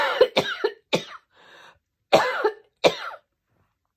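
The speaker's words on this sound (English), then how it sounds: "coughing and sneezing quite a bit." A woman coughs in several harsh bursts, a pair, then one, a short throat-clear, then two more, close and loud in a quiet room.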